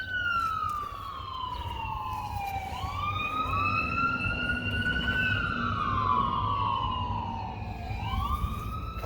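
Fire truck sirens wail through a city street, two overlapping tones sweeping up and down continuously and loud, rising and falling as the trucks pass, over a steady low rumble of traffic.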